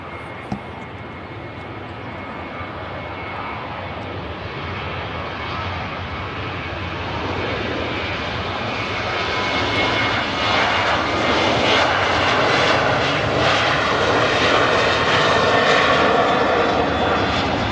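Airliner engines hum and whine steadily as the plane taxis out for departure, a broad continuous roar that gradually swells louder over the span, heard from an outdoor spotting position with no talk.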